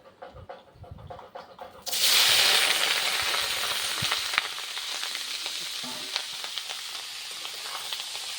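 Meat drops into hot oil in a pan, and after a quieter start a loud burst of sizzling takes over and settles into steady, close frying with occasional faint clicks.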